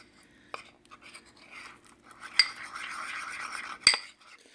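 Melted butter and flour are stirred into a paste for chicken stew, a soft steady scraping of utensil against a dish with two sharp metallic clinks, close and quiet.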